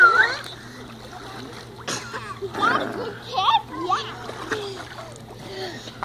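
A child swims in a pool, sending up uneven bursts of splashing water close by while children's and adults' voices chatter over it.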